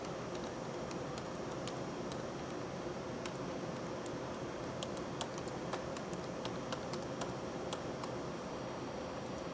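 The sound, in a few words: typing a password on a computer keyboard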